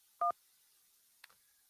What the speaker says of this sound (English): let's turn to the phone lines. Call from Zach